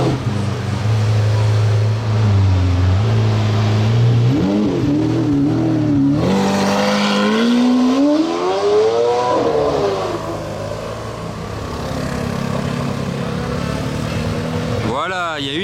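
Supercar engine loud and close, revving hard and accelerating with a rising, sweeping roar that dips and then surges again at the end, outdoors on a street in front of a hotel in Juan-les-Pins.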